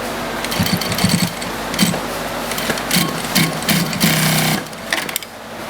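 An AtlasUSA AT93 automatic single needle sewing machine stitches thick heavy material back and forth, with loud close bursts of rapid mechanical chattering that start and stop as the pedal is worked.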